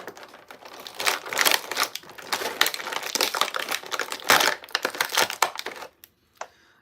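Strong packing tape is peeled off a NECA action figure's cape in a rapid series of close, crackly rips and crinkles, ending with a short pause and a final snap.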